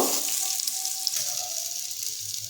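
Onions frying in hot oil in a pan for an egg dopeyaja curry, a steady broadband sizzle and crackle that holds close and even throughout, with no talking.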